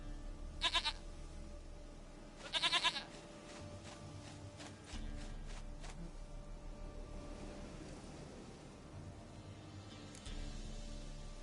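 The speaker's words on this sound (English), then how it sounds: "Goat of mine, dearest, sweetest goat." A goat in The Witcher 3 video game gives a couple of short bleats early on, followed by quieter, steady ambient noise and faint scattered sounds.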